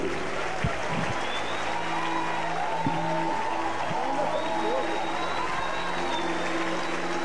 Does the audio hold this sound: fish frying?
no